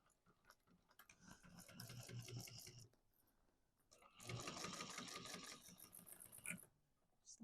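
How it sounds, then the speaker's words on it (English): A sewing machine runs tack stitches on a duffel bag in two bursts of steady mechanical whirring, with a brief pause between and quiet gaps at the start and end. "They're just tack stitches."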